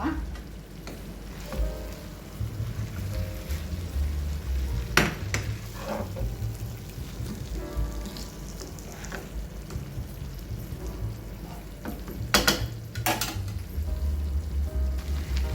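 King fish pieces coated in masala fry steadily in a pan, a continuous crackling sizzle running the whole time with a few sharp clinks of a utensil against the pan.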